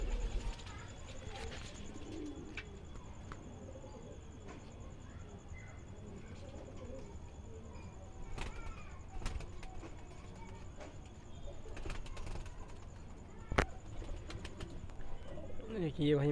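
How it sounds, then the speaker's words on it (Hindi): Soft, low coos of makoya pigeons repeat faintly in the background, with scattered clicks and rustles and a louder coo near the end. "ये मकोया कबूतर है भाई"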